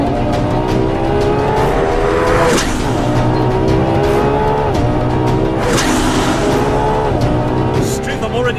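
A 950-horsepower Ferrari LaFerrari accelerates hard through a racetrack bend, its engine screaming up in steady rising sweeps, loud and close throughout, with brief dips where it shifts gears.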